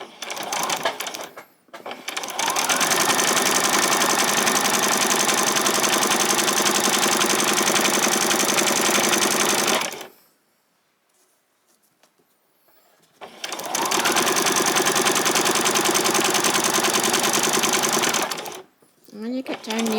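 A sewing machine runs a straight stitch along a trouser leg seam in two long, steady, loud bursts of fast whirring, separated by a few seconds of near silence, with brief starts at the edges.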